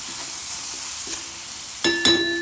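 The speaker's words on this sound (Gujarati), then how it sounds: "જે મેથી નાખી અને પહેલાં મસ્ત મિક્સ કરી લઈશું." Fenugreek leaves tossed into garlic in a hot pan for a radish-fenugreek besan bhaji, a steady sizzle with a few brief utensil scrapes and clinks near the end.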